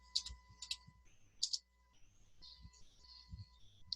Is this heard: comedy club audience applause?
no